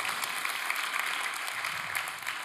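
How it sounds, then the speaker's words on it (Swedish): An audience at a talk on children's screen time claps steadily, a dense patter of many hands, fairly soft and continuous throughout. "oj, vad applåder till mig"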